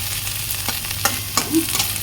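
Okra being fried in a pan sizzles steadily, with a few spatula scrapes and taps over the continuous close hiss.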